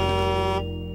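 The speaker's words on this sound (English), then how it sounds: "It's the sound of a big truck blowing its horn." A big truck horn blares as a loud, steady harmonic honk that holds for a moment and then drops to a softer sustained tone.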